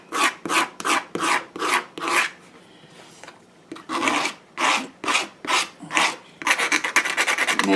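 Rhythmic rasping strokes come in rapid pairs and runs as pieces of wood for a fairy door wreath are scratched, close and crisp, with a short pause midway and a faster burst of scraping near the end.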